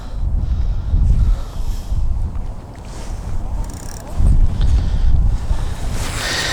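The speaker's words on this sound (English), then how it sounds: "Especially with this wind" Wind gusts buffet the microphone beside the water during feeder fishing, with lapping waves underneath and the rushing rising and falling in loud bursts.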